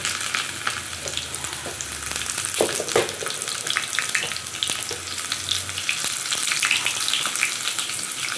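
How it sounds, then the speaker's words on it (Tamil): Shallots frying in oil give a steady crackling sizzle, with scattered pops and occasional utensil clicks, close and continuous throughout. "பொரிஞ்சதும் சின்ன வெங்காயம் நறுக்கி போட்டிருக்கேன்."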